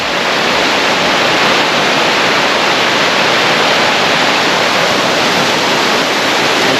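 A large waterfall roars as a steady, loud, broadband wash of crashing water near Devil's Tower, constant and unbroken with no voices.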